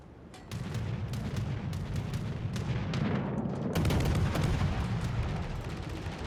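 Heavy ship guns firing in World of Warships, the cruiser Atlanta, a run of booming shots in quick succession with rumbling low-end, loud and close, growing denser and heavier midway.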